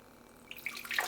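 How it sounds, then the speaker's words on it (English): Warm water is poured into a mixing bowl for rye bread dough, starting faintly and building into a bright, splashing trickle as the stream fills the bowl, close by with no talking. "I'm going to start by putting a cup of warm water"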